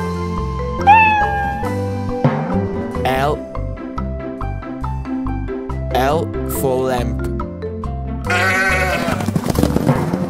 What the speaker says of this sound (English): K for kitten.